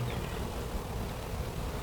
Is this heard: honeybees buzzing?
yes